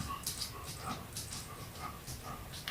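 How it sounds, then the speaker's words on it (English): A dog pants quietly in rapid, rhythmic breaths, faint and steady throughout the short stretch with no talk over it. "Sorry if you hear that panting. That's my dog."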